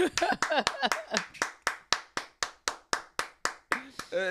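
Hands clap in a steady, even rhythm, about seventeen sharp, close claps in a row at a brisk pace, with a few looser claps at the start and end.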